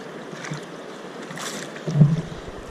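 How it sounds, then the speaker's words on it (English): Kayaks paddling across the Cape Fear River, with soft steady water wash and faint paddle strokes, including a slightly louder splash near the end, against a quiet outdoor background. "We're going to paddle across the other side of the river."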